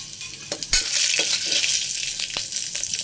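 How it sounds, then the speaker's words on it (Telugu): Dried red chillies, garlic and cumin frying in a little oil inside a pressure cooker: a bright, continuous sizzle with a few sharp scrapes and knocks of a spoon against the metal. "ఇందులో కొద్దిగా ఆయిల్ వేసుకొని కుక్కర్లో ఒక వన్ ఒక నిమిషం వేయించుకోవాలండి బాగా"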